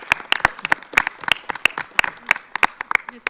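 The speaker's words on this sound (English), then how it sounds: "So another round of applause for all of our businesses." A small group at a county school board meeting claps for local businesses. Individual claps are sharp, close and fairly sparse, forming a loose, uneven patter rather than a dense roar.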